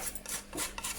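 Palette knife scraping acrylic texture paste off a painting surface in a few short, close, raspy strokes, with no talking.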